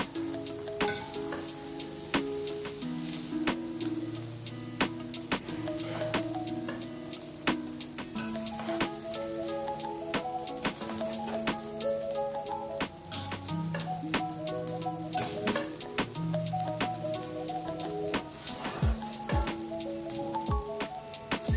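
Leftover rice stir-fries with sauce in a hot pan, giving a steady crackling sizzle with light tapping and clinking. Melodic background music plays over it the whole time.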